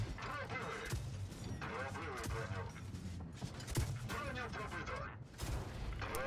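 Heavy cannon blasts from the Endurance tank in the video game World of Tanks Blitz, several sharp booms spread irregularly among engine rumble and clattering effects.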